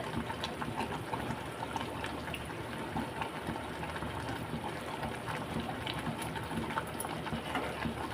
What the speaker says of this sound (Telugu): ఉడుకుతుంది